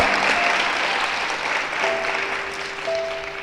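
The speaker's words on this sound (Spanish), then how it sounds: "¿Cuántos le pueden dar un fuerte aplauso al Señor?" Church congregation applauding during a Spanish-language sermon, a full, sustained roar of many hands clapping, fairly loud and even, with faint tonal hums from instruments or a sound system underneath.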